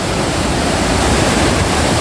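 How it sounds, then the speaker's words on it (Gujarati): Loud, unbroken rush of water pouring through a dam, a dense steady roar with no voices or pauses. "જો કેવું પાણીનો અવાજ આવે"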